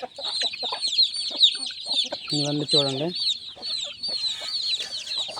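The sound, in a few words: chickens clucking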